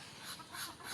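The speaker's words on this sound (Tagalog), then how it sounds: "Mga manok natin nag-aaway" Backyard farm chickens of oriental blood scuffling, a steady rustling, flapping commotion with faint clucking throughout, close by and moderately loud for under a second.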